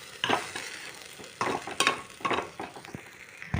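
Vegetable pulao being stir-fried in a pot gives repeated bursts of scraping and sizzling, close and moderately loud, in uneven strokes with short pauses between them.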